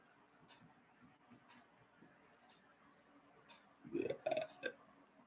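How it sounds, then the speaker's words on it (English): A single person's burp, caught on a casual movie livestream, rising out of a quiet room tone as a short cluster of rough, gurgling bursts near the end. "Burped."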